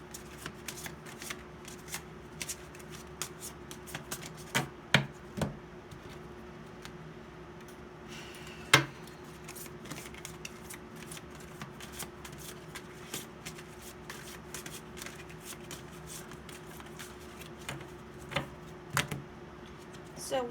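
Tarot cards shuffled by hand in a quiet room, a steady run of soft riffling and papery flicks with a few sharper snaps, close and fairly quiet with no talk.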